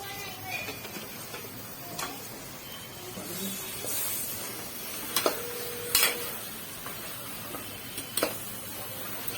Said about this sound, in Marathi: तेल चांगलं फ्राय झालेलं आहे तेलामध्ये भाजी टाकून घेतलेला आहे